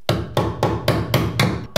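A side hammer pulling a nail out of a wooden joist during wall framing: six loud, close, evenly spaced strikes or pulls, each a hard metallic-woody burst with a short ring, alone with no talk.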